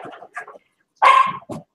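Puppies give a few short, high yips and barks, a couple of small ones first, then a louder bark and a final yip close by.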